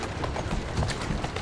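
A brief burst of horse hooves clopping in quick succession in Assassin's Creed Syndicate, close and fairly loud over background game noise.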